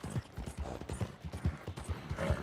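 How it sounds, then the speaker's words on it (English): Arabian horse hooves in Red Dead Redemption 2, a steady rhythmic clip-clop of a mount moving at a brisk gait, clear and close throughout with no talking. "I love the Arabian in Red Dead."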